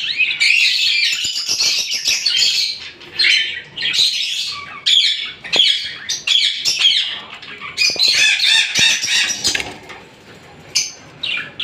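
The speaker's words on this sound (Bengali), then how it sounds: "এখানে এক জোড়া ম্যাঙ্গো পাইপ লাভবার্ড রয়েছে" A pair of mango pied lovebirds squawk loudly and close by, shrill harsh calls overlapping in rapid bursts with brief pauses, plus some flutters and chirps.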